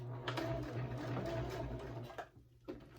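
A sewing machine back stitches at the start of a seam on a fabric wristlet, giving a short, quiet mechanical whir that stops and starts with a couple of brief bursts near the end.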